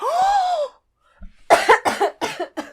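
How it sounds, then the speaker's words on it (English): A tonal throat sound, then a short pause and a run of four harsh, breathy coughs in close succession, near and fairly loud. "When I breathe in, it's just, the cough keeps coming out."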